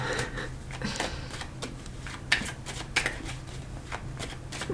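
Tarot cards are shuffled at close range, giving a continuous papery riffle and flutter broken by a few sharper snaps and taps, with no talking.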